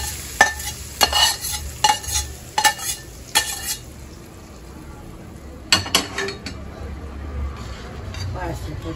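Cashews and coconut fried in ghee being stirred into mung dal payasam in a pot for a Tamil New Year recipe, with a run of scraping, clinking stirs near the start and a soft sizzle, under talk.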